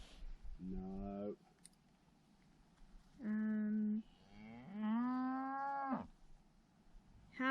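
Cattle moo several times out on open Dartmoor moorland at night, three long, loud bellows close by with quiet gaps between them.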